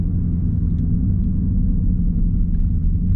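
A Dodge SRT sitting in launch mode, its engine giving a deep, steady, loud rumble that holds evenly throughout, close up with no talking.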